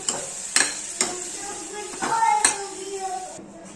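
Scraping and stirring boiled chickpeas in frying spices in a pan over a steady sizzle, with a few sharp metallic taps of a spoon against the pot.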